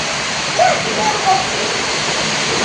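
Rainwater leaks and drips through a tin-sheet roof during heavy rain, heard as a steady, loud wash of falling water filling the whole clip, with a few faint brief tones rising above it.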